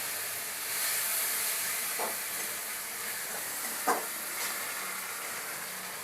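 Steady hiss of Gobindobhog rice frying in a pan, with a couple of brief stirring scrapes and clicks, no voices.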